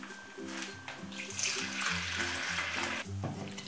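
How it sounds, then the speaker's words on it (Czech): Water poured from a measuring jug into a container in a home kitchen, 400 ml, a steady close splashing pour lasting a few seconds under quiet background music. "A tentokrát si tam dám 400 ml vody."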